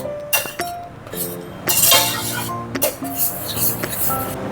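Pineapple chutney being stirred in a pan, a utensil clinking and scraping against the metal in irregular bursts, close and fairly loud, with some ringing tones and no clear talk.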